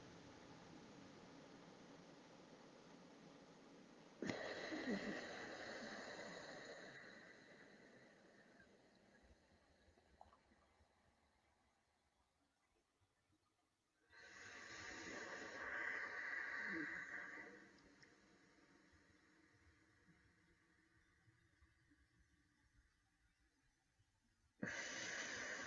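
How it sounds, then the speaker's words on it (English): Slow alternate nostril breathing during a guided meditation: long, airy nasal inhales and exhales that rise and fade over several seconds, separated by quiet pauses. "So begin to finish up your alternate nostril breathing."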